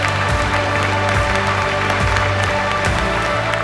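An audience applauds at Ebertfest, the film festival, in a steady, full wash of clapping mixed with low sustained tones and rumbling sweeps underneath.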